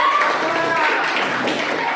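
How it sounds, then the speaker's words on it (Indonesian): A class of schoolchildren claps hands in unison, a continuous busy patter of many small hands sustained evenly throughout, close and fairly loud in the room. "Oke, tepuk tangan"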